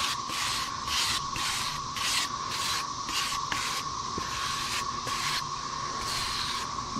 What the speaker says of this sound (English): we can just scrub over it with a wire brush and now put it right out and get rid of the char at the same time